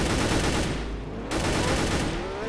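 Dense, continuous gunfire in the video game Mad City, a loud, sustained rattle of shots with a brief dip midway before the barrage resumes.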